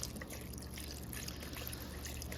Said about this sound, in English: So now I'm going to add in our beef broth.